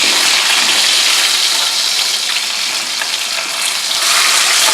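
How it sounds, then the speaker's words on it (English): Fish sizzles loudly in a hot pan over a high flame, a dense, continuous bright crackle of frying oil close to the microphone with no voices. "when I first saw you cooking this fish, I was thinking you were burning it"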